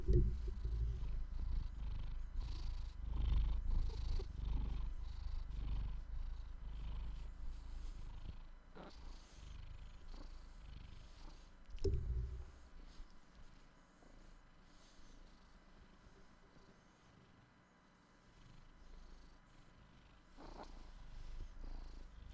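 A neighbor's cat purring close by, a low rumbling purr that is strongest early and then fades softer, with a few small thumps and handling noises over it.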